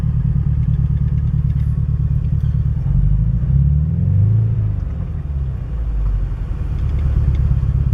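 BMW E46 engine misfiring and running rough with the management light flashing, a low continuous rumble with uneven shuddering surges, close and steady throughout.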